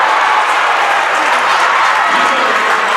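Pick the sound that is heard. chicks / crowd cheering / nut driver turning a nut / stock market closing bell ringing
crowd cheering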